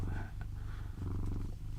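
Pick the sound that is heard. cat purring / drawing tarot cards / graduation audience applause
cat purring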